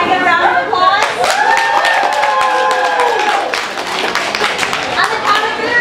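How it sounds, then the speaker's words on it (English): Guests at a child's seventh birthday party clap loudly and steadily, with excited voices and cheering ringing over the applause. "Can I get a round of applause?"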